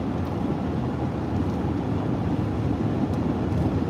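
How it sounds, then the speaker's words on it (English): Strong wind buffets the microphone outdoors on a drive toward Las Vegas from Arizona, a steady loud low rumble filling the whole stretch with no let-up and no talk. "Pretty strong wind out here"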